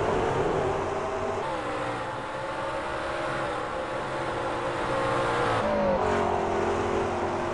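A McLaren race car in an Aus/NZ Grand Am round roars steadily on track. Its engine drones loud and close with gear changes and pitch shifts as it carries speed through the corners.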